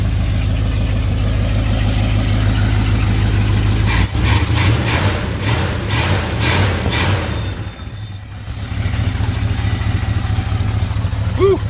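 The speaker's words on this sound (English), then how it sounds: "And it's sitting here idling." A 1971 Dodge D100 pickup, abandoned for 34 years and being made roadworthy, idles with a steady low rumble throughout, interrupted midway by a burst of rapid clicks, while someone talks over it.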